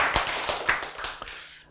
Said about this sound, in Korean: 자, 박수 한번 쳐야 되잖아요.